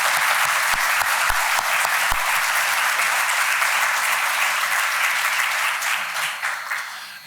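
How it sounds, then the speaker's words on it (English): Audience applause for board of education candidates at a candidates forum, a steady, full round of clapping from a room of people that holds for several seconds and then begins to fade. "If we would give them a round of applause."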